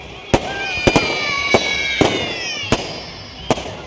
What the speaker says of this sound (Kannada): ನಗರದಲ್ಲಿ ಪಟಾಕಿಗಳ ಚಿತ್ತಾರ